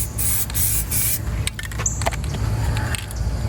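An aerosol spray can hisses in long continuous bursts with brief pauses, up close and fairly loud, while waterproofing a chair during a backyard makeover.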